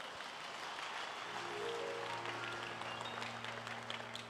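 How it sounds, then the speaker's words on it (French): A church congregation claps hands for Jesus during a deliverance sermon, a steady dense patter of many hands filling the room, with a sustained musical tone underneath. "Put your hands for Jesus Christ"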